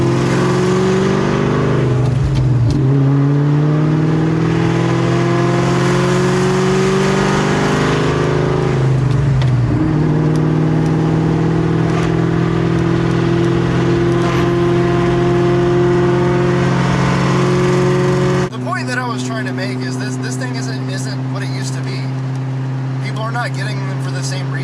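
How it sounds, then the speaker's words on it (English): A supercharged 2003 Ford Mustang Terminator Cobra with a four-valve engine revs through its exhaust. Two rising-and-falling throttle blips come early, then the engine holds a loud, steady drone before settling to a lower, quieter idle near the end. "you like the exhaust note of a supercharged 4-valve from 2003"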